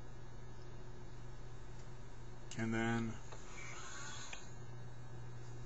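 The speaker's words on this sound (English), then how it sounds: "that noise you heard is basically the thing lining up for the stylus" A 1983 RCA SelectaVision video disc player aligns its stylus with a short mechanical whirring buzz lasting about half a second, heard close over a steady low electrical hum, with a brief spoken word nearby.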